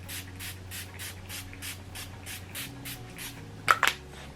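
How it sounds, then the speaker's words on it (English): Face mist sprayed onto the face: a rapid run of short, airy spritzes in an even rhythm, close and fairly quiet over a low background hum, ending with a couple of sharper bursts. "I'm gonna spray my face"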